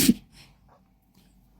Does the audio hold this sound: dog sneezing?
yes